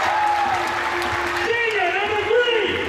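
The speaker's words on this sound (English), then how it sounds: "As the Naugatuck crowd cheering loud for their Greyhounds." A loud, steady roar of cheering and applause from the home crowd at a high school boys' basketball league final, Naugatuck against Kennedy, fills the gym while an announcer speaks over the public address system.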